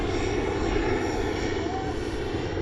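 An airplane flies overhead, a steady droning engine roar that holds for the whole moment, with people talking beneath it.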